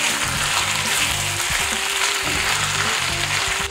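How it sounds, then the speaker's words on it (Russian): Vegetables seasoned with rosemary, dried basil and ground pepper are stirred in a hot frying pan alongside fish, giving a steady loud sizzle with repeated scraping strokes throughout. "Теперь засыпаем приправы розмарина, сушеный базилик и молотый перец по вкусу. И тщательно перемешиваем."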